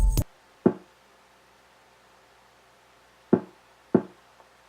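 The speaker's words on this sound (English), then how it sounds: "and we have these really soft kicks." Really soft kick drums from a track give muted, low thumps, one near the start and then a spaced pair later, each short and dull, with near silence between hits.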